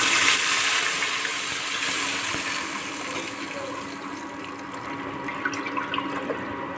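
A gram flour and buttermilk mixture for kadhi poured into a pan, a continuous liquid gush that starts strong and gradually thins and trickles off, close by.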